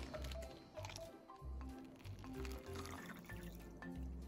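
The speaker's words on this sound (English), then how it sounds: "And pour out the colored water" Water colored with flowers is poured from a cut plastic bag into a cup, giving a soft splashing trickle in uneven bursts that sounds close and fairly quiet.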